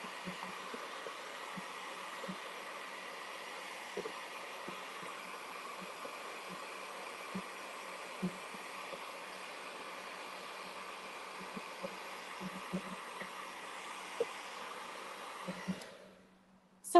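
A hair dryer drying a watercolor painting of a rainbow beetle gives a steady, even blowing hum, with faint taps now and then, and cuts off abruptly near the end.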